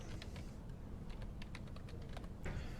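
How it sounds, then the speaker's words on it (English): Typing on a computer keyboard, quick irregular bursts of light key clicks close by, a name being entered, with no talk. "So I'm going to type Offenbecker."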